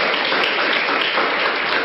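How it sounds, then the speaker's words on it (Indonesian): Audience applause at a business seminar presentation: a dense, steady wash of many hands clapping, fairly loud and continuous throughout with no speech over it. "tepuk tangan Mbak dan Bu, tepuk tangan"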